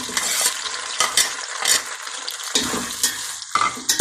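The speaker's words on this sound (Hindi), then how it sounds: "घी हमारा गर्म हो गया, अब मैं प्याज डालने लगी हूँ" Onions sizzle and crackle in hot ghee for keema biryani, with bursts of stirring and spoon scraping against the pan, close and fairly loud.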